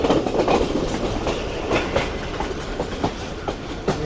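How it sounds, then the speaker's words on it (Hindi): A Pakistani railcar approaches Gujranwala railway station on a strike day, with rhythmic wheel clatter over rail joints and faint squeals, moderately near and steady, with no talk. "8:52 पर हमारी ट्रेन अप्रोच बना रही है गुजरांवाला रेलवे स्टेशन पर।"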